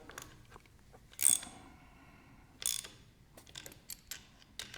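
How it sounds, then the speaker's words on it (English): A socket wrench ratchets on a VEVOR demolition jack hammer while a plastic part is being tightened, giving faint, scattered clicking bursts with quiet gaps between them. "I'm just going to put a socket drive on it."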